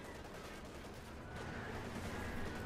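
Grenades exploding in the Company of Heroes 2 video game, a dense rumbling barrage of blasts and gunfire heard at a distance, fairly faint and continuous, with no voices.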